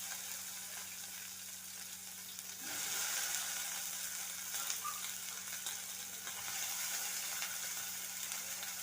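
Anchovies and washed vegetables sizzle steadily in a hot pan, a continuous close frying hiss that swells slightly louder partway through, with no voices.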